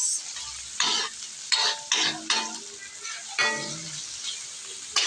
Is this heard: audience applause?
no